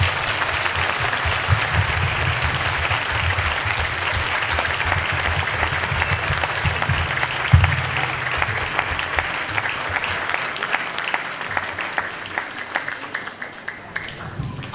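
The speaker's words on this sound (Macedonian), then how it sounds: "Со громогласен аплауз да ги поздравиме сите наши наставници од предметна настава" A large school-anniversary audience applauds teachers with sustained, dense clapping that fills the hall and tapers slightly toward the end.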